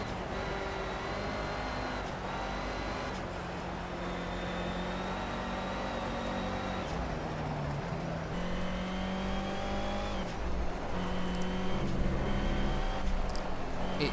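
A race car engine in the Project Cars racing game drones steadily at high revs through a wet race, with shifting pitch as gears change and brief lifts off the throttle, loud and continuous throughout.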